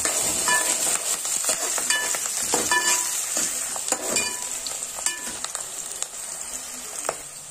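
Bay leaves and cloves sizzle in hot oil in a pan for chicken curry, a steady close crackling fry with occasional stirring clinks and spits.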